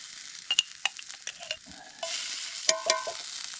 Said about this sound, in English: fry it up with the last bit of raccoon fat that I rendered